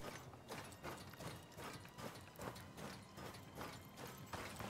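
Goats moving in the survival game Icarus, a steady run of soft clattering hoof-like steps at a moderate distance, fairly quiet and continuous with no talk.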